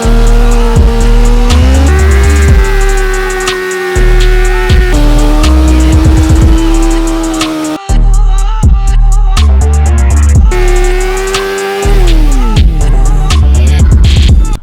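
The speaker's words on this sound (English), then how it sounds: "Gotta love a good burnout" A Suzuki GSX-R 600 motorcycle doing a burnout, its engine screaming loud and close at high revs with rising and falling pitch, the rear tire squealing, and brief drops in the revs before it climbs again.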